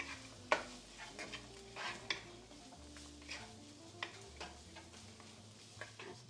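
Celery sautés in hot olive oil with a pinch of salt, giving a faint, steady sizzle broken by soft scrapes and clicks of a spoon stirring in the pan.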